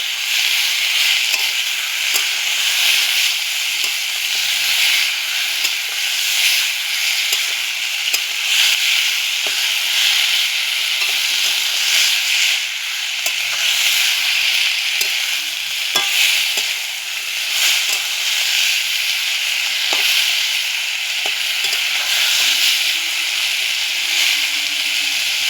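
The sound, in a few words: chopped tomato frying and being stirred with ginger-garlic paste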